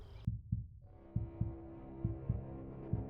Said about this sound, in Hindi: दिल की धड़कनें जैसे कानों में गूंज रही थीं।